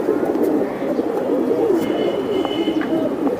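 Pigeons, including silver Giribaz and other fancy breeds at a bird market, coo in soft repeated rolling calls close by, with faint chirps and background noise.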